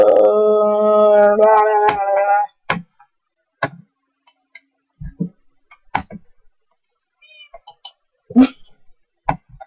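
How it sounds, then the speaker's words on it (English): A synthetic, tonal cat-meow taunt from a Minecraft prop hunt game rings out for a couple of seconds, followed by scattered sharp clicks and short game sound effects. "taunting you with the power of the meow."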